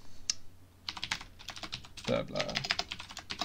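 Fast, uneven typing on a computer keyboard while entering a command into compositing software, crisp close key taps in bursts, with someone speaking briefly over them.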